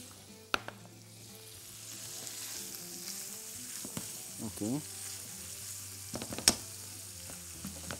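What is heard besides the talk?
onions frying in a pan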